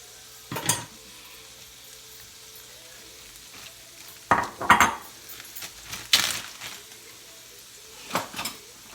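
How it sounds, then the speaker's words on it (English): Vegan spaghetti noodles being reheated in a pan, with a faint background sizzle broken by several separate bursts of utensil scraping and clinking against the pan. "We gonna heat our noodles up."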